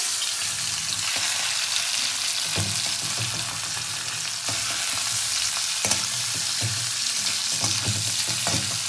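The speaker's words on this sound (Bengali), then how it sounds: "তেলটা আমার গরম হয়ে গেছে, এবার আমি মাছগুলো ভেজে নেবো" Prawns fry in hot oil with mustard flowers, a steady close sizzle and crackle running throughout with a few louder pops and stirring scrapes, no voices.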